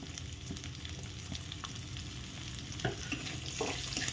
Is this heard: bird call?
no